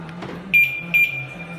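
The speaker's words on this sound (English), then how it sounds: "we can hear double beep" A retrofitted antitheft alarm siren on a BMW gives a double beep as the door unlocks: two short, clear electronic tones in quick succession, near and loud over a low voice.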